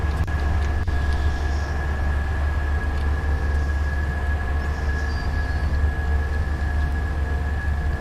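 Airliner rolling out on the runway after landing at the end of a flight from JFK to Daytona Beach, heard from the cabin as a steady loud roar and rumble with a constant whine, easing as it slows from reverse thrust.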